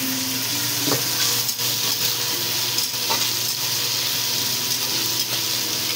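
Ginger-garlic paste frying in oil in a pan for a Bengali prawn chorchori, a steady loud sizzle with occasional stirring scrapes, alone.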